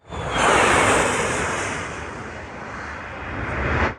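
A Turkish Air Force F-4E Phantom jet roars past at low altitude in a loud, broad rushing blast that swells, eases slightly, then surges again before cutting off.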